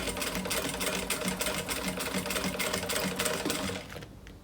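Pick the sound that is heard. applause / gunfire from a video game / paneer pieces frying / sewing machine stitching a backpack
sewing machine stitching a backpack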